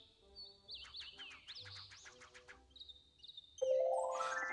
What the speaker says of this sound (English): Congratulations! You've attracted a sparrow mint.